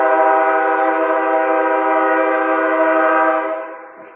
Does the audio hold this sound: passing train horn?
yes